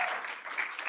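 Audience applause at a closing plenary of a national summit, a steady broadband wash of clapping that fills the short moment evenly at moderate volume, with no voice over it.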